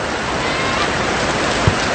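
Heavy rain pours steadily during a football match between Stallion Sta. Lucia FC and Loyola Meralco Sparks FC, a dense, loud hiss filling the whole moment with one brief thump near the end.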